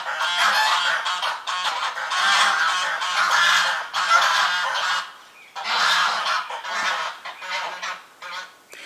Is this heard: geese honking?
yes